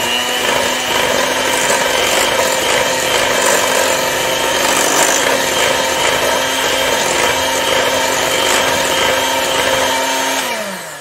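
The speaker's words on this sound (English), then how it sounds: "So I'm going to whisk it up." Eggs are whisked into mango cupcake batter with a loud, steady motorized whir and a constant hum. It runs unbroken for about ten seconds before winding down, with no voices.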